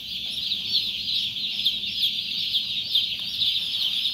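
Thousands of chickens cluck together on a large poultry farm in Taiwan, a dense, continuous chorus of overlapping clucks and calls, loud and close, with no voices over it.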